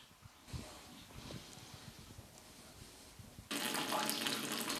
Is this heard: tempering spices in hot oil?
no